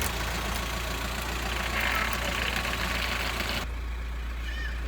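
A VW T5 1.9 TDI diesel engine runs steadily after a power steering pump replacement, giving a constant low rumble with a broad mechanical hiss that drops away sharply near the end.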